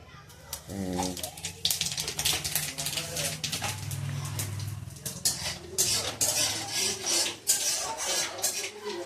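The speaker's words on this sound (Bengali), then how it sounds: "তেল গরম হয়ে গেছে, এবার তাহলে কালো জিরে দিয়ে দিচ্ছি" Black cumin seeds hit hot oil for tempering and crackle in quick, uneven pops and spits that grow busier over time, with a brief voice near the start.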